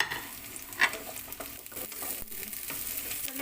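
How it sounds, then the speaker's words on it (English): Garlic sautéing in a pan for a Filipino salmon and shrimp sinigang gives a steady, close, crackling sizzle with a few brief clinks of stirring. "We just have to saute our garlic just 1 minute."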